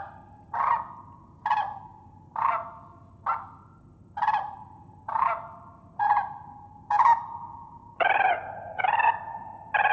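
Nine real cranes give loud, trumpeting calls one after another at a steady pace, each a brassy honk over a low rumbling background.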